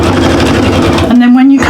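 A sewing machine runs a short back stitch while sewing a bag tidy, a loud steady motor whir with rapid needle clatter that shifts pitch and briefly pauses.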